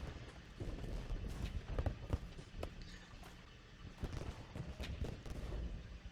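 Musket volleys from two ranks of infantry in the Civil War strategy game Ultimate General: Gettysburg crack faintly and distantly in scattered bursts over a low battlefield rumble.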